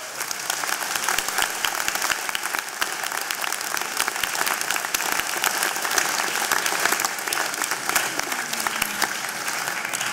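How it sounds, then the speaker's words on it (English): A graduation convocation audience at a university applied sciences ceremony applauds with dense, steady clapping that fills the hall for about ten seconds, loud and continuous. "give them a round of applause for being there for you every day."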